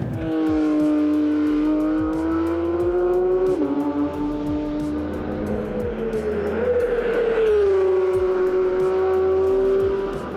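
A Porsche 911 GT3 RS howls around a race track, engine pitch climbing through the gears with quick drops at each shift and brief tire squeal, loud and close throughout.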